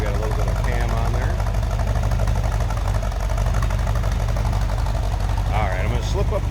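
A 1965 Ford Mustang fastback's 289 four-barrel V8 with Edelbrock carburetor and intake and a mild cam, idling loudly and steadily with a lumpy, even throb while someone talks over it.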